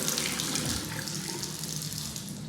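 A washroom tap runs cold water only at low pressure into a sink, a steady close hiss and splash that continues without pause or speech.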